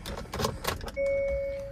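A Hyundai Exter SX CNG car being switched on. A few clicks and knocks lead into a steady electronic tone that holds to the end.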